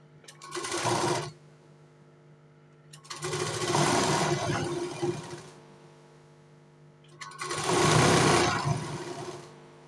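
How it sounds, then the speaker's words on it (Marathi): A sewing machine runs in three bursts, stitching a folded seam on a four-tuck blouse, its fast steady whirring close and loud, with quiet pauses between the runs. "याला आतमधल्या साईडला फोल्ड करून शिलाई मारून घेऊ"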